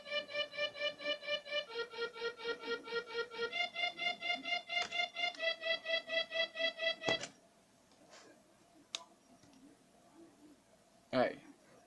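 Synthesized violin melody played back in FL Studio, a steady run of evenly spaced sustained notes stepping through a few pitches, then stopping and leaving faint room noise with a couple of soft clicks.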